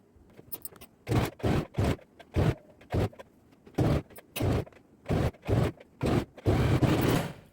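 A sewing machine stitches the princess-cut seams of a pattern blouse in about a dozen short bursts of whirring, each lasting under a second and separated by brief pauses, with the last run longer, close up and with no talking.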